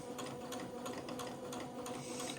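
A sewing machine stitches a seam on small lined bloomers in a steady, rapid mechanical whir with even ticking needle strokes, close and alone.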